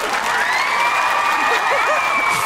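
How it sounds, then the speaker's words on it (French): An audience of young people claps and cheers loudly for a competing team at a contest, a steady wash of applause with whoops and shouts running throughout. "On applaudit tous les Raptorels."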